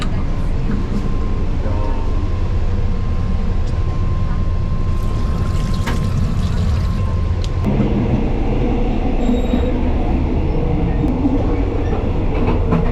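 A Thai night train to Chiang Mai rumbles steadily along the rails with a constant low roar, faint squeals and a shift in the rolling noise partway through.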